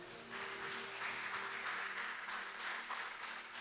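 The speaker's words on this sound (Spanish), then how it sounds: "Denle un fuerte aplauso al Señor." A church congregation applauds steadily during a Spanish-language sermon, a moderately faint, even wash of many hands clapping that holds throughout without pause.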